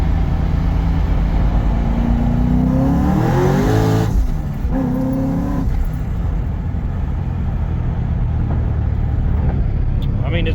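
Car engine revs to about 7,000 rpm while being tested after a belt tensioner replacement, a loud rising whine climbing steadily then dropping off, followed by a rougher idle with a person talking over it.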